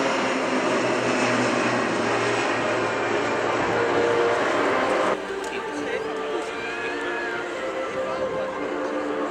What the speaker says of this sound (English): Pilots are demonstrating the aircraft in landing configuration.